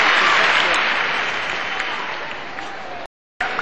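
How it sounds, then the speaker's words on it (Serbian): Audience applause at a tennis exhibition in an arena, a dense steady clapping from a large crowd that fades slightly before a brief cut, then resumes. "Veliki aplauz za Luku."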